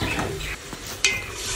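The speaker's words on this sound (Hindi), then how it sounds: "और इसे हम भून लेंगे अच्छे तरीके से" Half a kilo of chicken, rubbed with salt and cumin, fries and sizzles in a pan of spice masala for palak chicken, with a steady hiss, light stirring scrapes and one sharp clink partway through.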